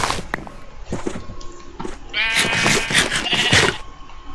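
Sheep bleating in Minecraft: several sharp, nasal baa calls from the game's livestock, loud and close, coming in quick bursts that overlap with game sound effects, with no talking over them.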